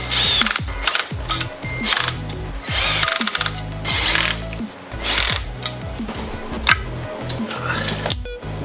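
A ratchet clicks in repeated quick bursts, close and clear, as bolts are driven to fasten a T5 transmission onto a 302 engine, with a few metallic knocks between strokes.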